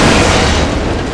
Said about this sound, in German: Und das hat jetzt das Gitter weggesprengt.